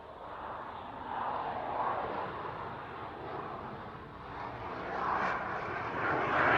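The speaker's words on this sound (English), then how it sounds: "as Noel comes in for a high-angle pass, he'll be travelling at about 110 knots" A jet aircraft sweeping through a slow, high-angle pass at about 110 knots over an air show, its engine roar rising and swelling from a distance and growing louder toward the end.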